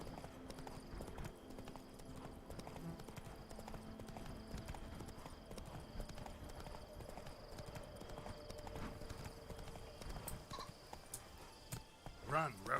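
Hooves of the horse Roach clip-clop steadily at a run in The Witcher 3, a continuous galloping rhythm under soft game ambience with occasional faint clicks.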